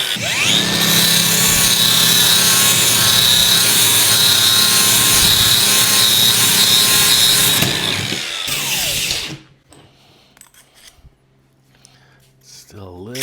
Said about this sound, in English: Homemade benchtop lathe.